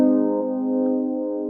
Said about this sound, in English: a major chord would sound like this.